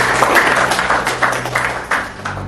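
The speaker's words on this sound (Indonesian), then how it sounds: "Tepuk tangan untuk kita semuanya" A crowd applauds with a dense, steady patter of clapping that carries loudly throughout.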